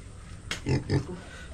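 A couple of short, low pig grunts close by, one after another over a faint background hum.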